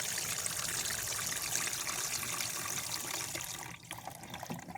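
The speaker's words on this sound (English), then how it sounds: "We'll add that water to the bottom." Water pours steadily into a carnivorous plant bog being planted, a constant close trickling splash that thins out near the end.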